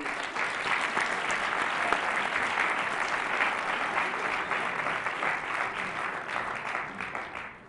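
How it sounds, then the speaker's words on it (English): An audience applauds a guest speaker, the current ABS president, at a student government State of the Student Body address: steady, dense clapping from a full room that holds evenly for several seconds, then tapers off at the end. "So everyone give a big round of applause for Danessa."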